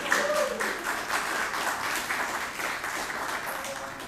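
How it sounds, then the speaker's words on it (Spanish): Congregation applause at a church faith talk, an even, moderately loud stretch of clapping with a voice briefly audible at the start, fading slightly toward the end. "Vamos a darle un aplauso"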